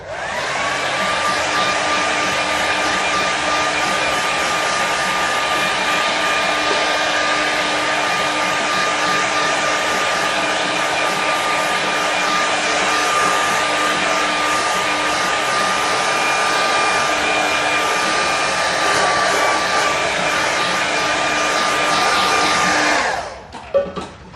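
A hair dryer blows on a watercolour landscape painting, running loud and steady for over twenty seconds with a constant whine, then switches off and winds down at the end.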